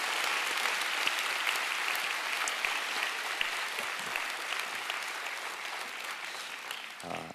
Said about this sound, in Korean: 우리 축복하는 마음으로 한 번 더 박수